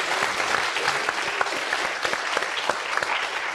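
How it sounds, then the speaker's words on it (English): A live audience at a children's science lecture on life beyond Earth claps for the young participants who drew aliens, a steady, dense applause filling the room with many close hands at fairly high volume. "a round of applause for everybody who drew an alien"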